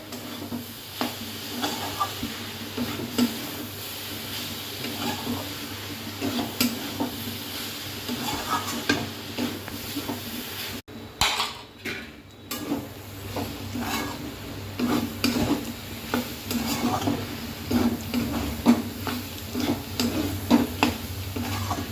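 Banana flower with grated coconut fries in a covered pan, making a steady low sizzle and hiss. Intermittent stirring scrapes and soft clatters of the lid or utensils break in, with a brief handling disturbance midway.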